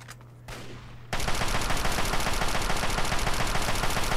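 Sustained automatic gunfire in Fallout 3 on Xbox Series S erupts after a brief quiet lead-in, a loud, dense, continuous rattle of rapid shots hammering on without pause to the end.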